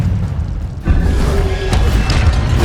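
An Incendio fire spell in Hogwarts Legacy whooshes into a heavy, rumbling boom that holds steady through the short stretch of dense game sound.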